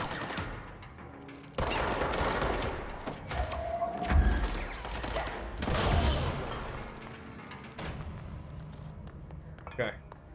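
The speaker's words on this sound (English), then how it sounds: "I know there was another one shooting at us." Enemies fire guns in the game Control, with several bursts and sharp reports spread across the clip, mixed with metallic clinks and game effects. A person talks over some of it.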